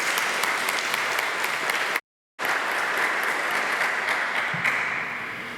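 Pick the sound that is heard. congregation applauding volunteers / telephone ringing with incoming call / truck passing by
congregation applauding volunteers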